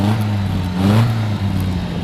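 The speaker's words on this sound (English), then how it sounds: "Give it a couple wraps." A running 1958 MGA Roadster engine is revved at close range, with a steady loud drone that rises and dips briefly over two seconds.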